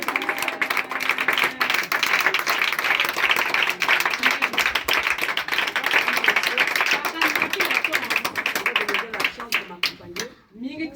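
A church congregation claps steadily in rhythm while acclaiming God, dense and loud throughout, with voices mixed in under the clapping.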